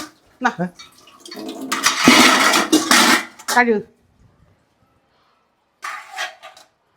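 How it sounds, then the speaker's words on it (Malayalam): Water splashes and runs in bursts with occasional clinks of dishes nearby, followed by silence and a short final rinse. "അമ്മ ഒറ്റയ്ക്ക് ഇത് പാത്രം കഴുകുന്നു"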